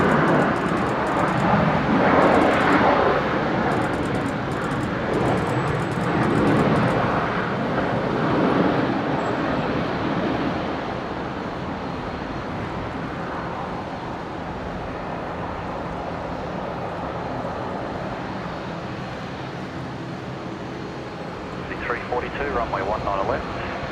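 A large aircraft at Brisbane International Airport gives a steady, broad roar that swells early on and then settles into a long, even rumble near the runway, with faint radio-like voices mixed in.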